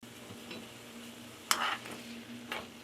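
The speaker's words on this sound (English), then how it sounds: "So I'm going to stir it just to make sure the seasoning is on all of them." Shrimp stirred in a seasoned pan on a stovetop, a quiet low sizzle with a few scraping clinks of a utensil against the pan, one sharper scrape near the middle, close and fairly faint.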